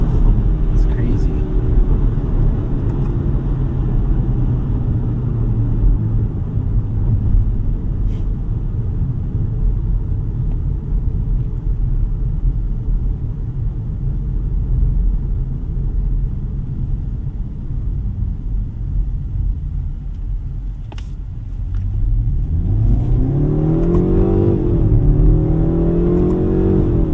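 A 2025 BMW 520i (G60) with a 4-cylinder engine drives in sport mode, its steady close cabin rumble building into a rising, revving growl near the end, with voices over the drone.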